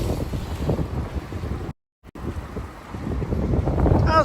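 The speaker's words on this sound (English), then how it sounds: "Man, that wind is kicking up." Strong wind gusting on an Upper East Side street in New York City in January, a loud, steady roar buffeting the microphone with a brief dropout midway.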